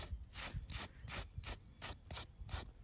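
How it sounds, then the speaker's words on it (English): A stiff scrub brush is worked by hand across garden paving in quick back-and-forth strokes, about eight rough scraping swipes in a steady rhythm, close and fairly quiet with no talk. "the key to this is the scrub brush. That's it. We're just like hand scrub it"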